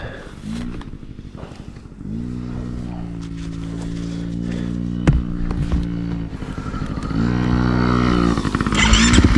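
A child rides a small Yamaha PW dirt bike at a practice track, its little engine buzzing steadily nearby and rising in revs toward the end.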